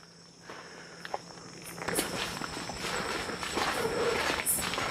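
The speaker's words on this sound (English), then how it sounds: "I'm hearing extra footsteps behind me" Footsteps thud on a boardwalk at MacRitchie Reservoir, Singapore, growing louder and more frequent, with insects chirping steadily in the background.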